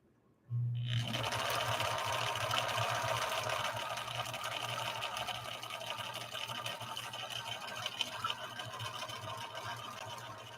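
Husqvarna Viking 6020 sewing machine stitching decorative cam C patterns, starting abruptly and then running in a steady, close, continuous whirring hum with rapid needle rhythm and no talk.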